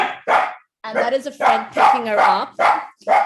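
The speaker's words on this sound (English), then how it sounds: "wait, that is my dog." A pet dog barks several times inside a home, the sharp barks mixed with a person talking over them.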